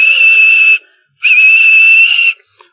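A steam engine whistle gives two loud, steady blasts, a short one and then a longer one, sounding close with a brief silence between them.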